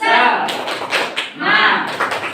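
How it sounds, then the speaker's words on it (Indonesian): A group performs a rhythmic spirit clap (tepuk semangat) at a presentation on positive culture, a few sharp clustered claps in a pattern mixed with voices chanting along. "Tepuk semangat."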